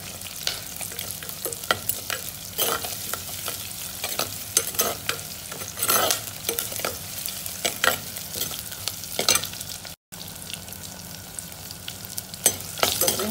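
Curry leaves, pounded garlic, green chili and onions frying in an earthen pot for fish curry, a steady crackling sizzle broken by frequent spatula scrapes and clacks against the clay.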